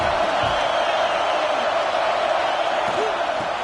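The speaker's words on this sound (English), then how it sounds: "the crowd coming to life here, trying to help this defense down in the red zone" A football stadium crowd roars continuously during a Michigan versus Ohio State game as the defense holds in the red zone. The noise is loud, dense and unbroken, with a faint voice above it.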